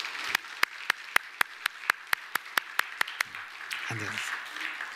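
A church congregation claps in a steady rhythm during a Sunday service, about a dozen crisp, evenly spaced claps that then break off into a low room murmur with a brief voice.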